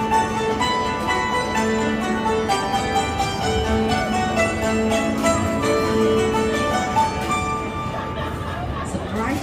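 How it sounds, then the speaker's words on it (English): A 150-string hammered dulcimer-type instrument struck with the bamboo side of rubber-tipped sticks gives a bright, continuous run of ringing metallic notes with dense overlapping sustain, loud and close throughout. "I use this two bamboo sticks with rubbers on the top. Hit on strings make sound, just like inside a piano"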